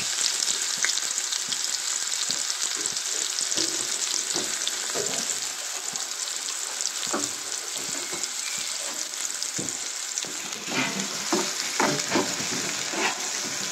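Onion frying in hot oil with asafoetida (hing), a steady close sizzle with scattered stirring scrapes and crackles throughout, no talking.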